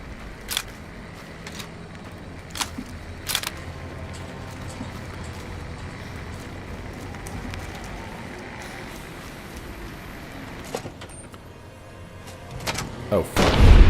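In Fallout: New Vegas, a .50-calibre anti-materiel rifle fires. Several sharp, loud shots come at irregular gaps over steady background ambience, and a heavier boom lands at the very end.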